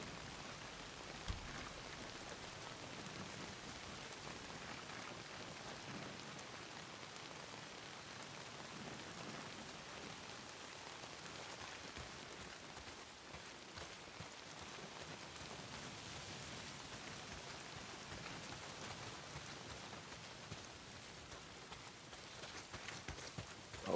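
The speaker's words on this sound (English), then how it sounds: "Well, not if it's pissing down rain." Steady heavy rain pours down in the Days Gone game world, a continuous soft broadband patter that stays even throughout.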